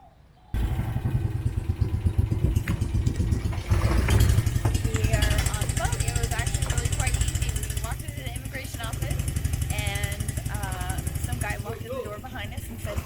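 A boat engine idles steadily and close by, a continuous low rumble with clatter running under people talking throughout.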